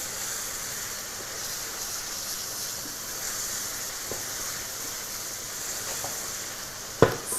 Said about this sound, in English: And then just toast that in all of that lovely fat, flavoured by the onions and the beef.